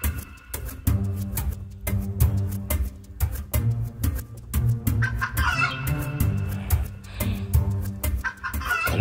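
Chickens cluck repeatedly in sharp, close bursts while a rooster crows over them, the calls overlapping in a busy, continuous farmyard chorus.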